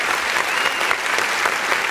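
An audience at a morning talk show on cannabis news applauds, a dense, even burst of many hands clapping that fills the whole moment.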